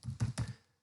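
Typing on a computer keyboard, three quick close key presses in a short burst that fades out.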